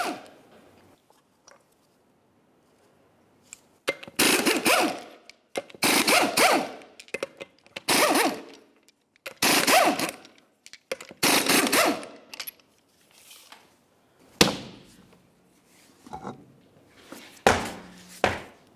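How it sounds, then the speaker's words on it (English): An impact wrench removes the six 21mm lug nuts from the rear wheel of a 2004-2015 Nissan Titan pickup, with loud, close, rattling bursts separated by short pauses and no talking. "removing all 6 of your 21mm lug nuts and then the wheel"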